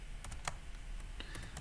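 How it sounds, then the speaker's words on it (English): Rapid key mashing on a computer keyboard during a coding session, a quiet flurry of irregular clicks and taps close to the microphone. "let's come up with just mash keys again."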